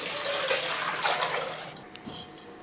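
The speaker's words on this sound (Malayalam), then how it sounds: "ആവശ്യത്തിനുള്ള വെള്ളം ഒഴിച്ചു കൊടുക്കുക" Water splashes and pours into a pot for pickling gooseberries for a couple of seconds, then tapers off to a few faint drips.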